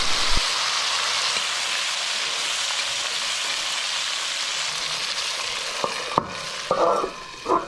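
Fish frying in a covered pan gives a steady, close sizzle throughout, with a few clatters and scrapes near the end.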